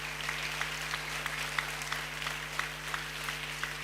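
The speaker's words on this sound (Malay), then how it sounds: "Tepukan adik-adik kepada ibu ayah kita." Children in the audience at a motivational talk applaud their parents, a dense even patter of small hands with scattered sharper claps, moderately faint, steady for several seconds over a low electrical hum.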